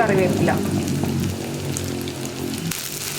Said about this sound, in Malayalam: കറിവേപ്പിലയും കൂടി ചേർത്തിട്ട് ഇനി ഉള്ളി ഒന്ന് കുക്കായി വരുന്നത് വരെ നമുക്ക് ഇളക്കി കൊടുക്കാം